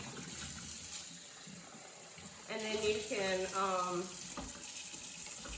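Water running steadily from a tap while a Vicks humidifier is rinsed clean, a soft continuous hiss at close range, with a person speaking briefly over it.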